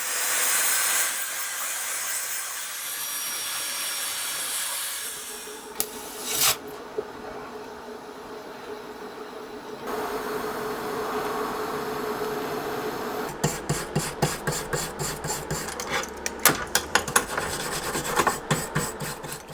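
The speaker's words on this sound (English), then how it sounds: "It makes sense to weld them together," Steel vice grips being welded to a steel threaded rod on a welding bench: a steady crackling hiss in long bursts with short pauses, ending in rapid stuttering pulses, close and fairly loud, with no talking.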